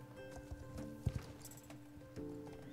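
Horse hooves clip-clopping in a video game race, the slow mount carrying no tack, a soft steady patter of steps with a couple of sharper knocks, faint and alone.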